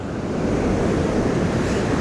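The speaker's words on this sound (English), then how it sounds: "Those waves are awesome, look at that." Sea waves breaking on the beach at Skegness in the off season, a steady, loud, broadband roar of surf with some wind noise on the microphone, continuous throughout with no talking.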